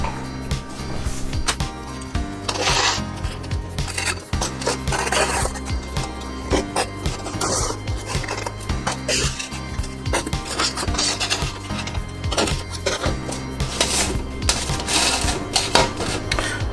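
Baked homemade tortilla chips clatter and scrape as they are flipped over on a baking sheet, a run of light dry taps and rubs beneath steady background music.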